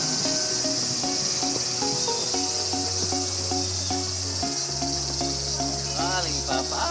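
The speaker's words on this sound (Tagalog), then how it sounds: "Tunog ng insekto." Summer insects in Japan chirp in a dense, continuous shrill chorus, with cricket-like trills layered over a constant hiss, loud and unbroken throughout and with no voices.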